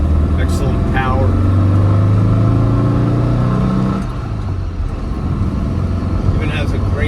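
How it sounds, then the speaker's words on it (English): Engine and exhaust of a 1968 Porsche 912 Targa on the road, a loud continuous drone with a rising tone as it accelerates, then easing off, while a voice talks over it. "Even has a great exhaust tone."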